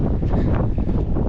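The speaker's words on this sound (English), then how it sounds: "It's a little windy, a little cold." Wind buffets the microphone on a cattle farm on a cold day, a loud, rough, continuous rumble with no voices.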